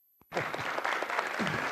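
Audience applause at a university event in Düzce bursts in after a moment of near silence and carries on as dense, steady clapping from a sizable room, with no talk over it.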